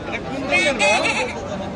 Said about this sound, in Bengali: কাশ্মীরি ছাগল